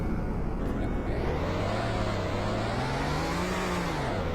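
A Ford Ranger pickup's engine revs loudly and close by, its pitch climbing and falling in a steady roar through the clip with no talk over it.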